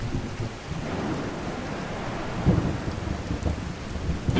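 Rainstorm in Skyrim: a constant patter and hiss of rain with low rumbles of thunder rolling underneath, swelling a little toward the middle and end.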